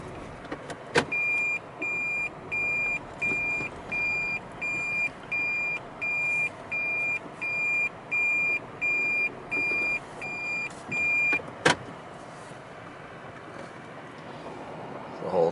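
Cars and trucks idling in a traffic jam on a mountain road near the Moki Dugway, with a steady low engine rumble and a long series of regular, evenly spaced beeps, plus a couple of sharp clicks.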